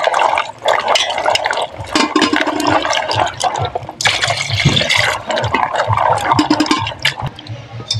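Jackfruit seeds being washed by hand in water, with steady splashing and sloshing that runs continuously and fairly close, in bursts of heavier pouring and swirling, with no talk.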